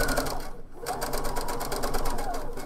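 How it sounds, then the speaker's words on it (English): A sewing machine runs steadily while edge stitching a collar onto the neck edge of a top, with a brief pause near the start, then continuous close, loud stitching. "The seam that I just sewed, which is sewing on the collar to the neck edge of the top, is what we're doing, and we're just edge stitching it"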